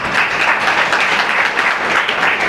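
Sustained applause from an audience at a school yoga competition gratitude ceremony, steady dense clapping filling the whole moment with no pauses or voices over it.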